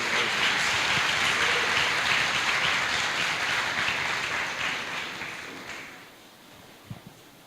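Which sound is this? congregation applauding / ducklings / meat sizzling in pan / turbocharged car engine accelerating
congregation applauding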